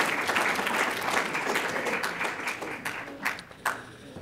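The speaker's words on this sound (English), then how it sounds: "Let's give them a big round of applause." An audience applauds a champion women's football team, steady clapping filling the room and thinning toward the end with a few louder claps standing out.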